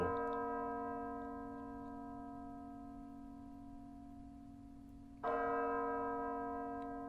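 Church bells ring in an anime episode, a sustained, ringing tone that slowly fades and is then struck again partway through, clear and moderately quiet with no talking.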